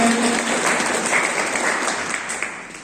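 An audience at a Kisan Samman Divas farmers' gathering claps to welcome the chairman, loud, dense applause that slowly fades over a few seconds.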